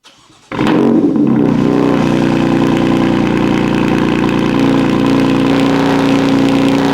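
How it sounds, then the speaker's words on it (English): A BMW fitted with a performance exhaust cold-starts after a brief quiet moment, the engine catching with a sudden loud burst and then holding a steady, raspy high idle close by. "this is what it sounds like on a cold start with a performance exhaust on it"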